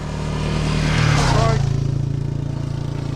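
A motorcycle on a long adventure ride pulls away, its engine holding a steady, throbbing note that slowly changes pitch as it moves off, loud and close throughout.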